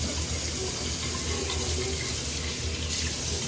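Tap water pouring steadily into a sink during a wash, a constant close gush of running water with no pauses.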